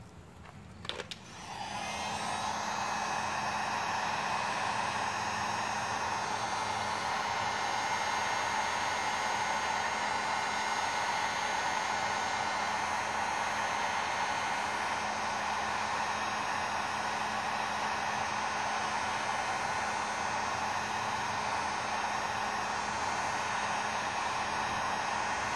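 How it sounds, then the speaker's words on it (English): A heat gun blowing hot air to soften leftover badge adhesive on a Ford Escape SVT, a steady loud airy roar with hum that runs continuously after a brief start. "I'm probably gonna have to go back in with the heat gun, scrape this off."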